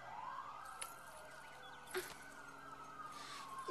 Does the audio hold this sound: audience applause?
no